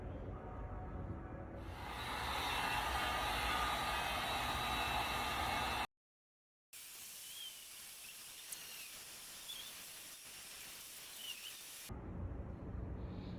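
A 22k gold pendant heated in a pitch pot for chasing and repoussé, with a steady broadband hissing roar filling the space, cutting out briefly, then resuming softer with faint ticks, no voices.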